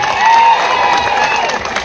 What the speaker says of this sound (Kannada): ಜಿಲ್ಲಾಧಿಕಾರಿಗಳ ಜೋರಾದ ಚಪ್ಪಾಳೆ ಹೊಡೀರಿ